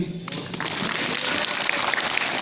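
An audience at a political party discussion session breaks into applause for a good answer, clapping that starts abruptly and holds as an even, moderate patter until the end.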